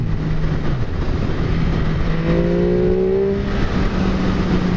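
A 2015 MV Agusta F3 800 motorcycle engine drones steadily up close, its pitch dipping once early and then climbing through a rising rev midway before settling into a sustained tone, with no talking.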